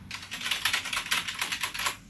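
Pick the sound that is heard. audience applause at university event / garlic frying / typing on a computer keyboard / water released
typing on a computer keyboard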